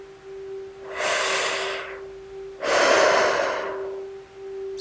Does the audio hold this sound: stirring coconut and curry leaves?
no